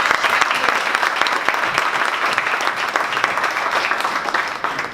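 An audience at a 1 Million Cups Dallas startup pitch event gives a steady, full round of applause after a presentation, dense clapping that holds at an even level throughout.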